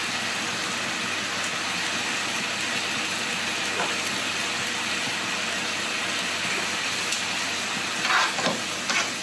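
Spaghetti with shredded Parmesan being stirred in a pan over low heat, a continuous loud sizzle and scraping hiss throughout with a few brief clinks near the end.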